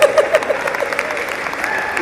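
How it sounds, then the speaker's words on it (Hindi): Audience applause at a Hindi comedy poetry recital, steady clapping throughout, loud and close, with a few louder bursts near the start and a voice briefly audible over it. "सब बजा रहे ताली"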